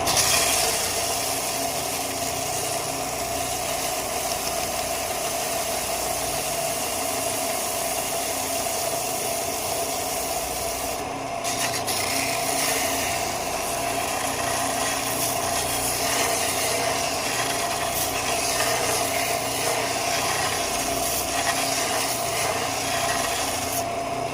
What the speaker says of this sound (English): Let's hit the belt sander real quick.